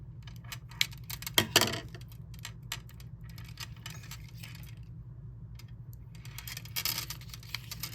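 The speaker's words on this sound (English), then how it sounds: "They just sound like glass beads." Light clicking and clinking of glass beads on a vintage hand-knotted necklace rattling against each other, with a brief cluster of jingles early on and more near the end.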